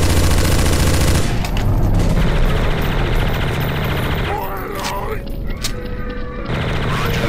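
Rapid gunfire from Counter-Strike: Source in a zombie escape map, sustained bursts firing almost continuously and loud throughout, with a voice talking over it.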